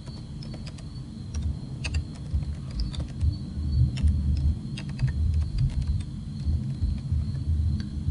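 Computer keyboard typing while setting up a WordPress site, a scattered run of light clicks and taps over a low room rumble, close and moderately quiet, with no speech.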